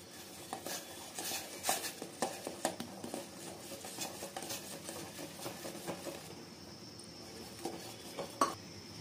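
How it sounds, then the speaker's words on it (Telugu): Flour stirred into boiling water in a pot, heard as a spoon scraping and knocking against the pot in an irregular rhythm of soft clinks, close and fairly quiet, without talk. "ఈ నీళ్ళు మరిగగానే ఈ పిండి వేసి కలుపుకోవాలి"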